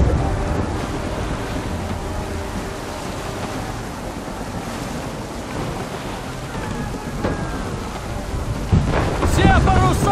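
A stormy sea in the video game Assassin's Creed III roars steadily with crashing surf, wind and rumbling thunder, dense and loud throughout, with a brief harsher burst near the end.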